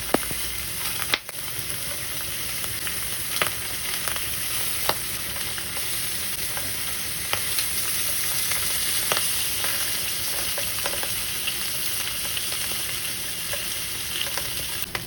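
Milkfish (bangus) fries in a pan with a dense, continuous sizzle and crackle, and sharp pops and spatters break through at irregular moments. It sounds close and steady, with no talking.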